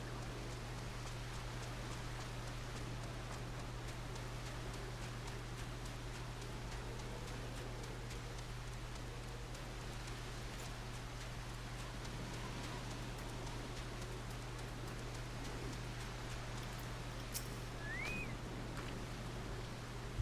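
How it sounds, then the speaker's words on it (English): Steady rain falls in Camp Drybone, a location in the video game Final Fantasy XIV, as an even, unbroken hiss with a low constant hum beneath it and no voices. "And it's raining in Camp Drybone."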